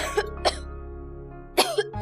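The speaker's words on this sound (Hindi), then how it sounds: "खांसी क्यों हो गई इसको?" A few short, harsh coughs close by, two at the start and two more near the end, over a low steady hum.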